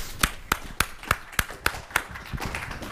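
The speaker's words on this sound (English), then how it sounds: "let's give all of them a round of applause" A few people clapping at a talk about mobile game developers and third-party IP, seven or eight sharp evenly spaced claps close by, then fading into a softer patter.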